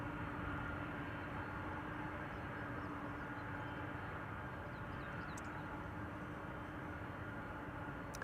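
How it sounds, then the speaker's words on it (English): A Lufthansa airliner passing overhead at Amsterdam Schiphol Airport, heard as a faint, distant, steady jet roar that holds evenly throughout with no voices. "Lufthansa overhead"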